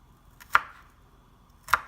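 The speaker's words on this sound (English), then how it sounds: "I'm going to chop a second garlic clove." A knife chops through a garlic clove on a cutting board: two sharp, close chops about a second apart, with quiet between them and no talking.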